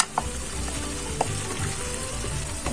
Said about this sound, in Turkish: Kıymam kızarıncaya kadar kavurduktan sonra soğanlarımı da ilave ettim.